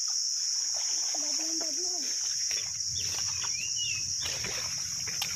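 Water gushes steadily from a natural spring in a continuous close splashing wash, with birds chirping now and then and a voice briefly heard in the background.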